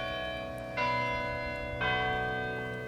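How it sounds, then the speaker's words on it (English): Chimes ring from the tower atop a building on the Indiana University campus, two resonant bell strikes about a second apart whose tones sustain and overlap, heard from a distance. "The chimes on the top of the building ring out on the hour and quarter hour"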